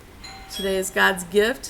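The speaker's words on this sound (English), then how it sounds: "And that was my doorbell." A home doorbell rings a few clear chime tones, close and distinct, while a voice speaks over it.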